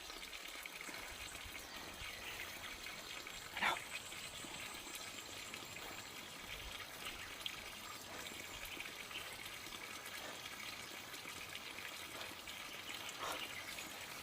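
Water running steadily in a dense forest, a constant faint gushing trickle heard from nearby, with a few small knocks and rustles now and then and no talking.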